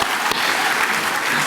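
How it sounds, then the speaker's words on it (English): An audience at a university study-abroad orientation breaks into dense, steady applause for the tech crew, with the clapping loud and sustained for the whole moment. "Cheer for our tech guys"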